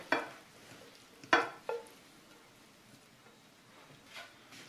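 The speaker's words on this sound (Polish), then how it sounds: "Rozkładam je równo na dnie." A few soft scraping, rustling clatters as fried leeks are spread in a baking dish, three quick bursts near the start, then quiet with a faint stir later.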